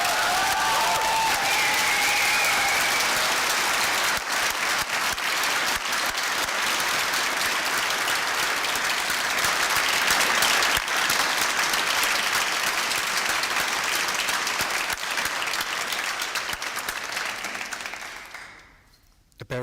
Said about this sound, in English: I would like to have a big round of applause for Francine.